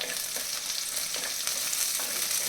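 Sliced onion, slit green chillies and a handful of curry leaves fry in hot oil for a Tamil fish curry, giving a continuous close sizzle with light stirring scrapes and no talking.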